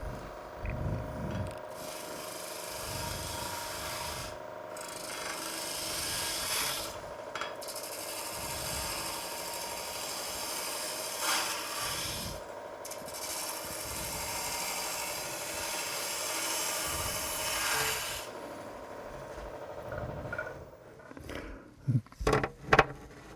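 A wooden bowl blank, meant to become a three-legged bowl, is roughed out on a lathe: a gouge rasps and scrapes against the spinning wood in repeated sweeping passes, with a few sharp knocks as the cutting stops at the end.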